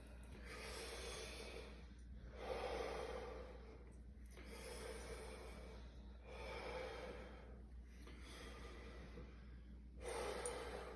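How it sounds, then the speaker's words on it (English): Slow, deep inhalations during a guided breathing exercise, about five long breaths drawn in one after another with short pauses between, quiet and close to the microphone. "Take a deep breath in."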